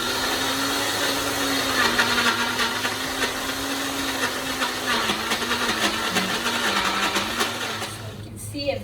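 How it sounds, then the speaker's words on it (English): A kitchen blender whirs loud and continuous as it blends an eggless Oreo biscuit cake batter, with a steady grinding motor drone that runs for several seconds and then winds down at the end. "So we've put everything into our blender and we're going to blend it."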